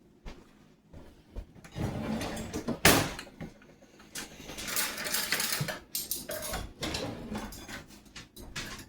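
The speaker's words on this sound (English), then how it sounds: "Hang on a second, and we'll grab a couple of spoons." Kitchen rummaging while grabbing a couple of spoons for chicken salad: a drawer or cabinet door, clinking cutlery and scraping utensil noises, scattered irregular clatters at close range.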